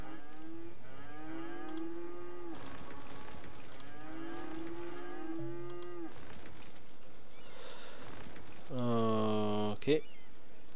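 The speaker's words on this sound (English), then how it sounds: "There's a lot of mooing going on over here." Cattle mooing in the city-building game Cities: Skylines, several long drawn-out moos repeating in a steady sequence, fairly loud, with a louder closer moo near the end over a faint background.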